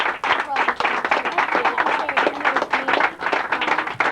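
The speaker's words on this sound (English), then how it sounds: "So I think these guys deserve a round of applause." Dense applause at a youth baseball team awards picnic, many hands clapping at once in a continuous, lively patter that stays fairly loud throughout.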